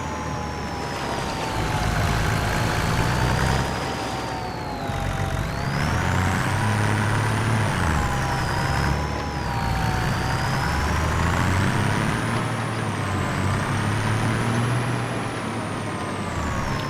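A truck in Farming Simulator 25 runs steadily with a rising and falling engine whine, air brakes hissing at moments, moderately loud and alone without talk.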